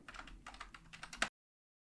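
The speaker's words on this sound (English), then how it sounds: "just a lot of typing" Quick bursts of typing on a computer keyboard, close and clear, with clustered key clicks in uneven runs and a last sharp tap before sudden silence.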